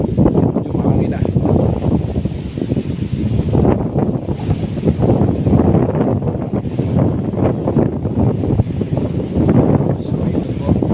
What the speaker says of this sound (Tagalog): Medyo mahangin na.